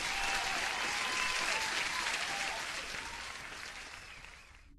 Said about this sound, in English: Where is the applause?